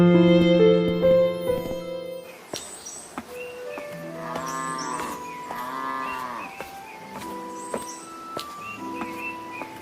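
Cows and a bull in a cartoon mooing repeatedly, several long drawn-out lowing calls in succession, fairly close and clear with little else behind them.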